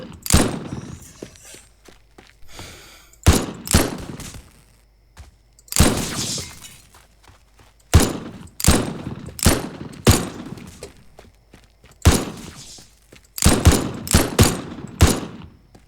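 Gunfire shatters and breaks a gate at a huge mansion in the video game Teardown: loud, sharp bursts of shots and crashing debris in irregular clusters, with quieter stretches between volleys.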